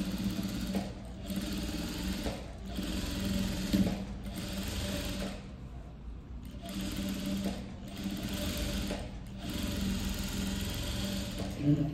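A sewing machine stitches a princess-cut blouse in close, steady runs of rapid mechanical whirring, broken by short pauses between seams, with a voice speaking softly in the background.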